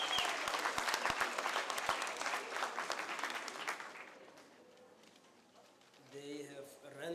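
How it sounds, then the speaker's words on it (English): Audience applause for a choir at a Xhariep District well-done function, a dense burst of clapping that fades out after about four seconds, followed by faint bird cooing. "Let us give our choir a big round of applause."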